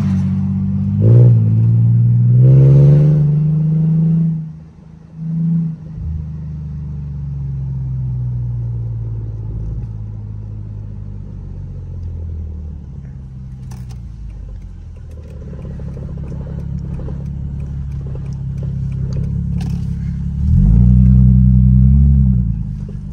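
A Mercedes W210 sedan engine revs at half throttle in first gear, a deep rumbling drone that swells, dips briefly, then climbs again in repeated pulls, loud and close from inside the car.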